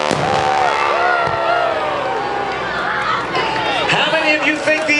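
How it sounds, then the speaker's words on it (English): An air show crowd at a Blue Angels event screams, whoops and cheers loudly while a jet truck races an airplane, with many overlapping voices and a constant roar of shouting throughout. "we're going to race them by your screaming and applause"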